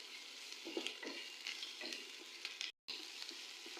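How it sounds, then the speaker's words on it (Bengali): Garlic and ginger frying with onion in a pan for a fish dish, a faint steady sizzle with irregular light spoon scrapes and stirring clicks, briefly cutting out near the end, no one speaking. "রসুন দিয়ে দিলাম, আদা দিয়ে দিলাম। এখন আমি এগুলো ভাজবো।"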